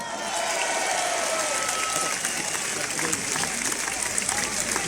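A crowd at an outdoor protest against the health pass, in front of the health ministry in Paris, applauds and cheers in a sustained, fairly loud burst, while a voice talks over the clapping.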